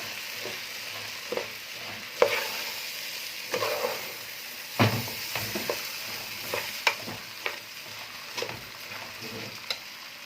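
White rice stir-fried with black pepper in a pan, for a béchamel rice and vegetable dish, gives a steady sizzle under repeated scraping and clinking strokes of a utensil, with no talking.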